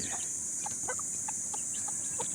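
Mother hen with a brood of fifteen chicks, clucking softly in short, regular notes against a constant high-pitched hiss of background noise.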